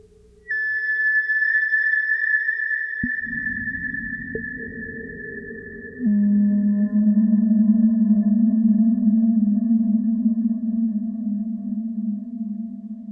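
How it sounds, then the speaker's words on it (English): A self-resonating filter on a modular synth sings pure sine-like tones that hold, bend and step between pitches, trailed by long delay echoes and reverb, sustained and fairly loud with no talking. "turn up the resonance to actually make the filter self-resonate, and it creates these really great pitch bending kind of sounds"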